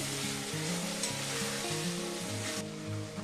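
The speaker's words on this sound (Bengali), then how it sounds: "এটা এর সাথে ভালো করে কষে নিতে হবে যতক্ষণ না তেল ছাড়ছে" Onion, garlic, green chili and coriander paste frying in oil for an egg papad curry, a steady bubbling sizzle heard close and alone, with faint tonal background music.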